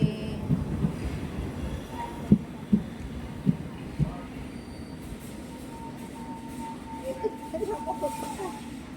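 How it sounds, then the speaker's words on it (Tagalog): Train rolling along rails inside a UK station, a steady low rumble with several sharp wheel clanks and knocks in the first half and a faint squeal later, heard up close with no talk. "Second train, everyone."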